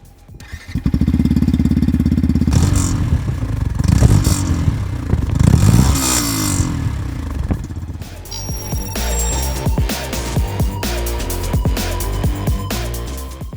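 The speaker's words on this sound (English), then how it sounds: "let's listen to the exhaust sound in the open" A Yamaha FZ-X motorcycle exhaust rumbles loudly nearby in the open, idling with a throaty burble and revving up in several bursts before settling back.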